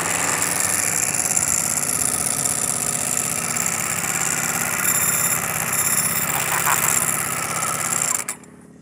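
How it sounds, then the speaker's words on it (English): A 2023 Ducati Panigale V4R motorcycle engine running steadily and loudly nearby, its dry clutch adding a mechanical rattle over the constant droning note, until the sound cuts off abruptly near the end. "We're gonna start it up and you're gonna hear some clickety clackety"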